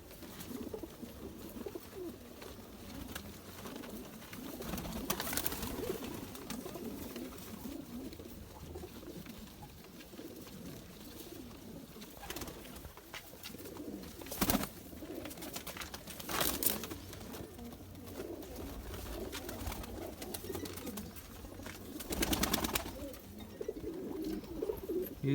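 A pair of Zeera pigeons coos softly and continuously at close range, a low burbling drone broken by occasional louder clatters and handling noises.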